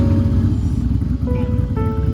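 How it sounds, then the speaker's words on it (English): Classic cars roll in for staging at the Bridgehampton car show, a steady close engine rumble and motor drone with faint voices nearby. "So we have some cars that are coming in for staging."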